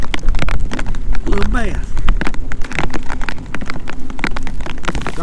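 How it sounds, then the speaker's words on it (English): Rain patters steadily on a lake's surface around a bass-fishing boat during a mayfly hatch, a dense crackling hiss under someone talking. "Here comes some more rain."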